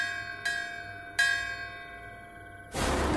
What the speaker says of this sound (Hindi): दूर से मंदिर की घंटियां बजने लगी